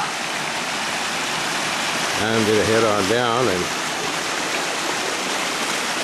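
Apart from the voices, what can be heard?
small waterfall on a creek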